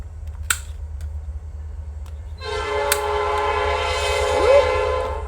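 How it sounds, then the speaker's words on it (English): A loud, sustained train horn blares nearby over low engine rumble, following a couple of sharp clicks, and holds steadily for several seconds. "Sometimes those trains come in and they are just so loud."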